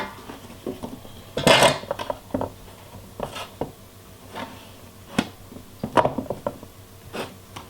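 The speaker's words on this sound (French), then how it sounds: "On va donc maintenant prendre une plaque de cuisson. On va venir les mettre dessus." Cut homemade fries set onto a metal baking sheet, giving a series of light clattering knocks and taps, some sharper than others, close up with no voices.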